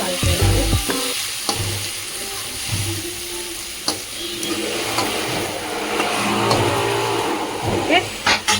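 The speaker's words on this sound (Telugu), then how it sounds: "టమాటా వేసుకున్నా. టమాటా కలిపేయాలి." Tomatoes frying in a pan for a puffed-rice uggani breakfast dish, with a steady sizzle, scraping stir strokes and occasional clunks of the spoon against the pan, fairly close.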